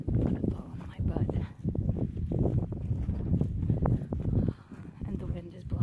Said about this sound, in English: And the wind is blowing.